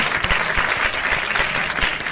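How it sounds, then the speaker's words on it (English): Steady crowd applause as a sound effect opening a podcast, dense clapping held at an even level throughout without a break. "Cue the applause."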